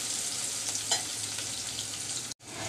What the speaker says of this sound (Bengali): পেঁয়াজ আর রসুনটা একটু নরম ভাজা করে নিব।